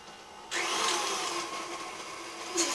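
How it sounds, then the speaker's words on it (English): An electric stand mixer whirs steadily while beating soft cream cheese cookie dough, kicking up into a louder, brighter hum when the speed is raised and holding fairly close and constant. "So we're going to turn the mixer on."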